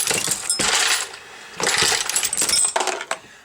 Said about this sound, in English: we're finally going to spit out a finished, completed round when it does the crimp